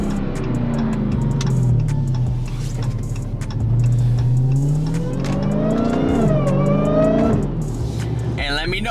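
A 2020 widebody Dodge Challenger Hellcat with Stainless Works catless midpipes revs loudly outdoors, its deep engine note climbing and falling through several throttle blips, with voices talking over it.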